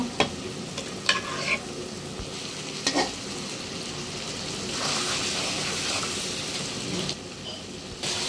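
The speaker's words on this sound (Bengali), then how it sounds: "এখন এখানে আমি ভাজা মাছগুলো দিয়ে দিব" Fried fish is stirred into sizzling onion masala in a pan: a steady, close frying hiss runs throughout, broken by a few scraping strokes of the spoon.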